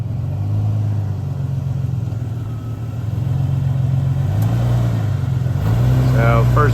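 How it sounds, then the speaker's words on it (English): A 4x4 vehicle on a Colorado trail crawls over a rock obstacle, its engine rumbling low and steady, then revving harder near the end, while someone talks over the motor. "we'll run some vehicles over it and see how it does"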